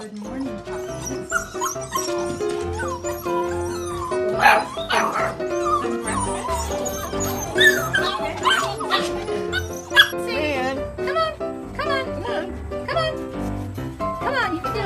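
A litter of golden retriever puppies whimpers, yips and barks in a busy overlapping chorus, close and fairly loud, with high whines rising over repeated short barks throughout.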